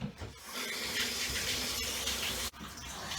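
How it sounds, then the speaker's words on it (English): A steady, loud spray of running water hisses continuously, like a shower head rinsing surfaces up close. "Now that I've rinsed the shower"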